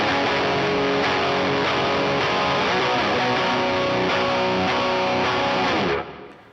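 Distorted electric guitar played through a NUX MG-30 multi-effects unit with phaser and noise gate, dense and loud throughout, then cut off sharply near the end as the gate closes.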